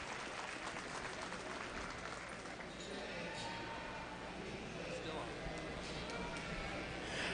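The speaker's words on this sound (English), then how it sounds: "Let's give all these exhibitors out here a big round of applause as they go back to the pens." Applause at a youth livestock goat show for exhibitors returning to the pens, a faint continuous patter of clapping in a large arena with crowd murmur and talk beneath.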